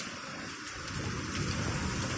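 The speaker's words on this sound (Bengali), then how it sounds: "প্রচন্ড বৃষ্টি হচ্ছে, দেখুন একবার" Heavy rain pours onto a rooftop during a midday downpour, a dense continuous roar of rainfall with a deep rumble underneath, steady and fairly close, gradually swelling louder, with no talking.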